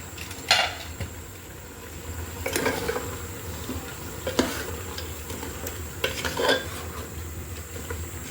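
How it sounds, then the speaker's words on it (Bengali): Duck meat sautéed and stirred in a pressure cooker for a Bengali winter duck curry, with a faint steady sizzle and a few scraping stirs of a spoon against the pot at intervals. "আমার হাঁস কিন্তু আমি অনেকক্ষণ কষিয়েছি।"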